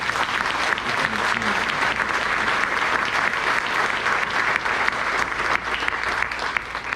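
Sustained applause from a church congregation during a celebration service, steady and dense throughout with no pauses, some murmuring faintly underneath.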